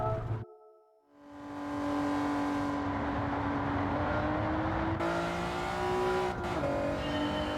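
A drift car's engine in Gran Turismo 7 rises after a brief dip and then holds a loud, steady rev, climbing slowly in pitch, with a shift-like break partway through.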